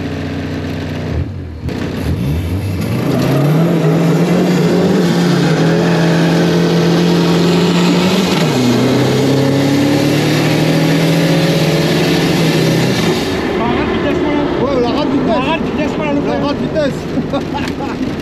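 A Peugeot 205 TDI diesel car engine revs hard and loud, its pitch climbing and holding in long steps before it drops back to idle, with people talking over it.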